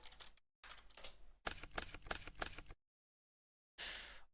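Digital card shuffle from the Yu-Gi-Oh! Duel Links card game: a rapid run of crisp riffling clicks lasting about a second, between short bursts of game effects, with no talking.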